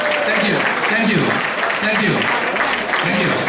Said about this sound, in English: Could you please give our mayor a big applause?